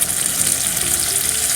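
Marinade hits a hot pan of Ilocano igado, a pork and liver dish, and a loud, steady, close sizzle of frying fills the whole moment without any speech.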